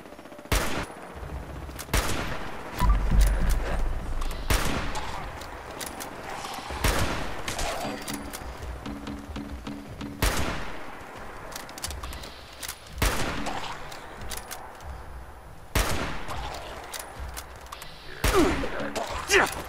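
Rifle fire in a video game rings out as repeated sharp, loud shots, spaced irregularly through a long stretch with rumbling noise between them.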